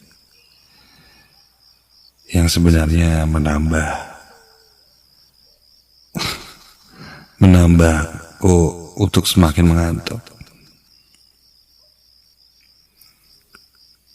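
A steady, high-pitched cricket chirp pulses throughout in a quiet setting, continuing under a voice that speaks in two stretches.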